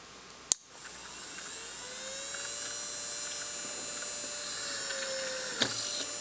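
An Innocraftsman mini drill press whines steadily as it bores a small hole, a thin high motor tone between two short sharp clicks at start and finish, fairly quiet and without talk.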